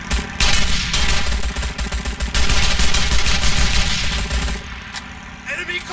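Assault rifle fire in the Sniper: Ghost Warrior mobile game, sustained bursts of rapid shots rolling almost continuously, loud and close, with a short lull near the end before firing resumes.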